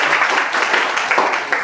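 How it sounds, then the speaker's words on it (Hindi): An audience bursts into energetic applause at a motivational speech, dense overlapping clapping that holds steady for a second or two. "तो जोरदार ताली बजाओ"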